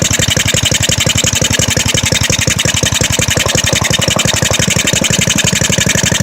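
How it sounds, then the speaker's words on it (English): Briggs & Stratton WMB small four-stroke engine, fitted with a starter motor, running close by with a fast, even chugging beat that holds steady and loud for the whole stretch. "now we're hitting every 2 revolutions like a 4-cycle supposed to"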